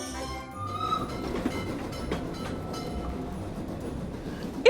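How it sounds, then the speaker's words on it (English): A toy candy cane train running with a continuous rattling, clattering rumble and faint bell-like chimes, steady for several seconds with no talking. "That sound means the candy cane train is about to make a toy delivery for us to test."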